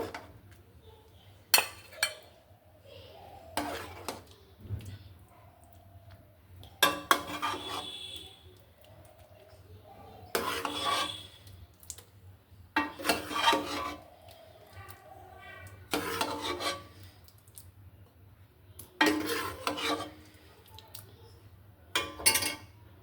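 Lentil, potato and bottle gourd curry being served from a pot, with repeated metal ladle scrapes and clinks against the pot in bursts separated by short pauses, close and fairly clear, with a voice talking between them.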